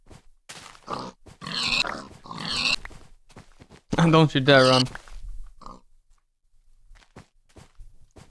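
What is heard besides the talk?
pigs grunting and oinking in Minecraft-style video game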